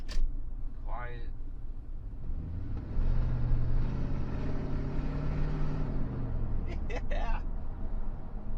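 A 2005 Ford F150 pickup on a road test runs steadily with a low, smooth engine and road rumble throughout, swelling slightly midway, while people talk over it.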